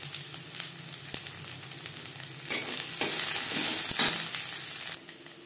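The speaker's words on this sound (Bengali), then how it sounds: "মশলার সাথে 2-3 মিনিট গাজর ভেজে নেওয়ার পর দিয়ে দেবো ক্যাপসিকাম।" Carrots and capsicum fry with spices in oil in a pan for a savoury semolina dish: a steady close sizzle with stirring scrapes that grows louder partway through, with no voices.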